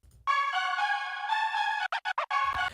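A bright synth pluck melody produced in FL Studio with a Gross Beat effect, sustained tones that suddenly chop into rapid gated stutters near the end before resuming, heard alone.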